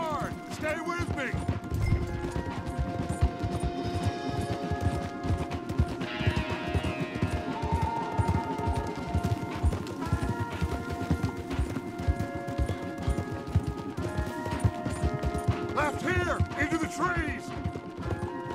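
Galloping horses in the video game Red Dead Redemption 2, a steady rapid clip-clop of hooves throughout alongside a music score and occasional speaking voices.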